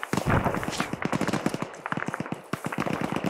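Rapid gunfire from an ArmA 3 infantry battle, where a grenadier fires a grenade launcher while leaning. A dense series of sharp close-range reports runs through the whole stretch, with a short break in the middle.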